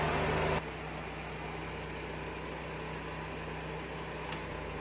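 An old car air-conditioning compressor converted into a vacuum pump runs with a steady, continuous mechanical hum and drone, a louder burst at the start before settling into an even, moderately close whir with no voices.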